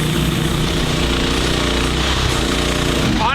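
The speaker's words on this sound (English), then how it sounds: "the cab is super loud. It sounds like there's a Briggs & Stratton generator running underneath it." The engine of a cheap Temu Chinese mini excavator runs steadily, heard from inside its loud cab as a dense, rattling, hammering drone at constant high volume without pauses or speech.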